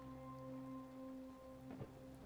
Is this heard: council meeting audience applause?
no